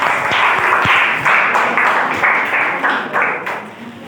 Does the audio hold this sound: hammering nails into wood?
no